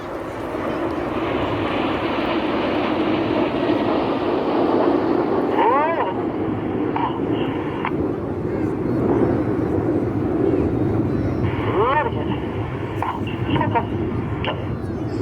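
Red Arrows jet aircraft flying in an air display, a continuous loud roar of jet engines under a commentator's voice, swelling and fading as the formation passes.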